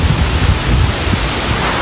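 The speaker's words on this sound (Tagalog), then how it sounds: "May ilog po dito." Steady broadband rush of a river flowing below a high ravine or cliff, continuous and fairly loud throughout, with no voices over it.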